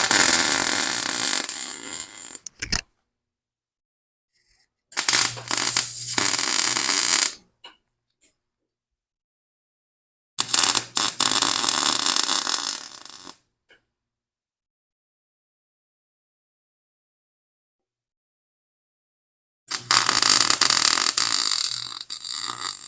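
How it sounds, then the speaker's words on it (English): Welding a steel brace on a belly tank racer build gives four separate bursts of harsh crackling buzz, each lasting two to three seconds, with dead silence between them, close and fairly loud. "I'm going to weld this up real quick"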